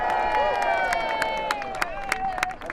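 A crowd cheers and claps after Land Rover Ben Ainslie Racing wins a foiling sailing race, the applause sounding steady beneath a narrator's voice and sustained tonal music.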